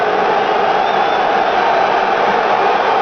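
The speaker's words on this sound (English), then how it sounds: "And the San Francisco crowd roaring now" A large stadium crowd in San Francisco roars at a 1970 NFC Championship football game between the Cowboys and 49ers, a loud, steady, dense wall of noise that holds without a break throughout.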